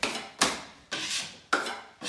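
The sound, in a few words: 4-inch bedding knife spreading drywall mud on taped joint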